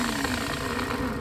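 A Nissan UD truck starter motor spins steadily on the bench, a loud, even mechanical whir with a constant hum running throughout, no talk over it.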